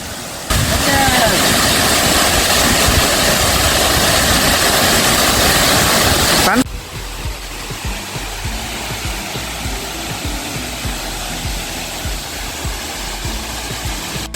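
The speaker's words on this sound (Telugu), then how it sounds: "వావ్, సూపర్ ఉంది ఫ్రెండ్స్ వాటర్ ఫాల్." A loud, close roar of rushing water pours down Tarabu waterfall, then drops suddenly to a softer, steady wash partway through, as if the listener has stepped away from the falls.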